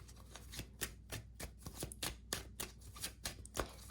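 Tarot cards being shuffled in quick, repeated riffling bursts, close and crisp, with no talking.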